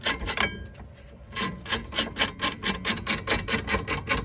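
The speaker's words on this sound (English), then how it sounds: "We're just going to take the ratchet and screw them back in." A ratchet clicks rapidly and evenly as brake caliper pins are screwed back in on a Mercedes E250 rear brake job. A few quick clicks come first, then a short pause, then a steady close run of ratcheting.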